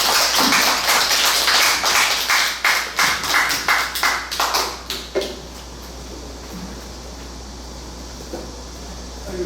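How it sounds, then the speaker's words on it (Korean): Audience at a Korean humanities lecture claps to welcome the lecturer, a burst of scattered applause that fades into a few separate claps and then room hum. "박수로 맞아주세요."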